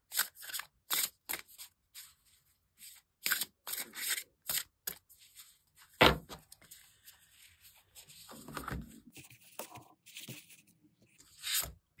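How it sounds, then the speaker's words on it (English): A deck of watercolour-illustrated mushroom oracle cards is shuffled by hand nearby, producing a quick series of crisp riffling bursts and flicks separated by short pauses, ending with a longer softer rustle. "So I'll give them a shuffle."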